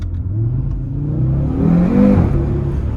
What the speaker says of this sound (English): it's definitely got that RS3 kind of grumble to it, like the low RPM noise was missing before